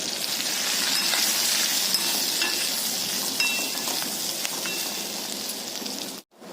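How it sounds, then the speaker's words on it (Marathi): Green chillies roasting in a pan over medium heat, a loud, even crackling sizzle that holds steady for about six seconds before cutting off abruptly near the end. "गॅस आता मध्यम करून त्या मिरच्या छान भाजून घ्यायच्या"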